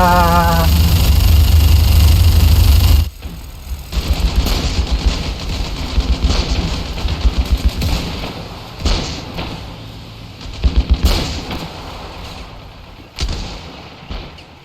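A futuristic gun firing in Ravenfield, with a loud sustained blast at the start followed by scattered shots and thuds amid ongoing battle noise.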